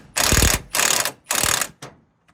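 Ratchet tightening an inner tie rod on a Vauxhall Opel Corsa: three loud, close bursts of rapid mechanical clicking in steady rhythm, then a shorter fourth burst and a faint final click.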